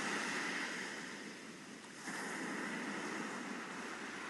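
Ocean waves wash onto a shore, a steady broad surf rush that dips briefly and then swells again, faint and alone with no voices.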